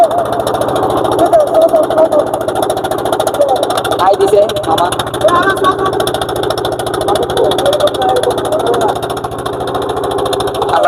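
A motor boat's engine drones steadily with a mid-pitched, rumbling chug on a river trip, running throughout beneath almost constant nearby conversation.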